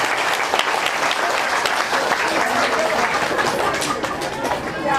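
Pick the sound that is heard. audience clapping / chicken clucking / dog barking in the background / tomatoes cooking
audience clapping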